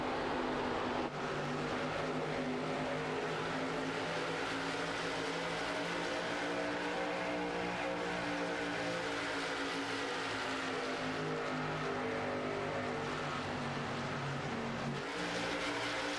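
Race cars at Kansas Speedway in a racing video game drone with sustained, layered engine tones that rise and fall as the pack circulates, loud and steady with no talk.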